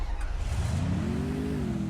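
A motorbike engine in a video game revs up, a close, rising growl that climbs in pitch toward the end, with no talking over it.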